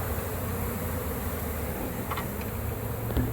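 A swarm of honeybees buzzing during removal of a hive from a tree in Orlando, Florida, a continuous low drone heard outdoors, steady and moderately loud throughout.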